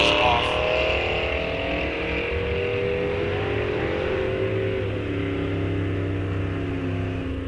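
Drag racing cars launching at Rock Falls Raceway during a bracket series race, loud sustained engine roar pulling away down the strip and shifting pitch as they run, with an announcer talking over it.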